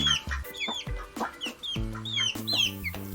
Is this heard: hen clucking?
yes